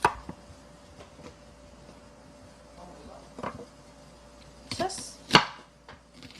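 A knife slices through a large onion on a board for a braised pork ribs stew, a couple of sharp, close cuts ringing out near the end, with brief speech and a faint steady hum beneath.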